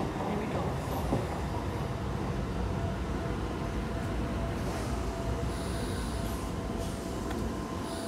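A Tyne and Wear Metro Class 599 train rumbles steadily along with a constant low roar and faint rhythmic rattling, no clear voices, at an even loudness throughout.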